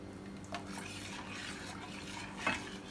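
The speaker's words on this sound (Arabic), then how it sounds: "لازم بقى تقلبه بسرعه عشان في نشا عشان ما يكلكعش" Rice pudding with milk being stirred in a pot: quiet scraping and soft clinks of a spoon against the pot, with a few sharper taps and light bubbling underneath, heard close up.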